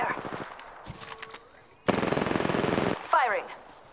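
Machine gun fire in a video game: rapid, evenly spaced bursts of shots, one long loud burst in the middle between quieter rattles and a short final spray, over faint background.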